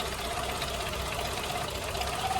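A Mitsubishi 4G93 car engine with a failing fuel pump idles roughly and misfires, a steady close rumble with uneven knocking pulses and no pause, with no talking over it.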